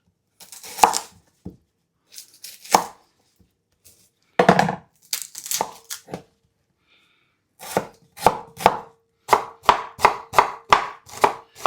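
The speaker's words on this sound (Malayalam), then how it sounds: "ആ സമയം കൊണ്ട് നമുക്ക് കുറച്ച് സവോളയും കാര്യങ്ങളൊക്കെ അരിഞ്ഞെടുക്കാം" A knife chops onions on a board for beef chaps: scattered single cuts and short bursts at first, then a steady, rapid run of crisp, close chops, with no talking.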